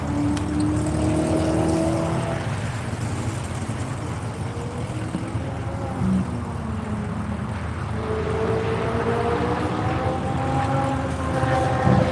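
A Porsche race car running a lap of the track at NCM during One Lap of America, a steady engine drone with shifting pitch that rises and falls as it passes, fairly loud against a broad background roar.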